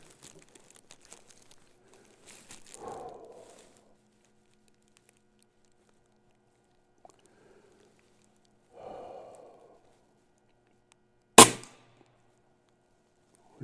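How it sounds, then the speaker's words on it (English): A Notos air rifle fires once at a shooting bench: a single sharp, loud crack near the end. Before it come quiet stretches with a few soft rustles and shuffling sounds. "The gun tilted on me just as I shot."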